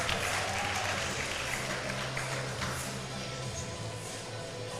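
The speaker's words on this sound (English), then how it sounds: "Shiziyong sat in the crowd, is clapping, he is cheering his teammate on." Crowd at a weightlifting World Cup session applauding and cheering, a broad steady wash of distant clapping throughout, with a low hum beneath.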